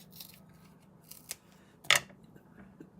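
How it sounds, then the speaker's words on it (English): Scissors cutting through card paper, a few short snips, the last one crisp and loud, close up in a quiet room. "cut a little bit of that off"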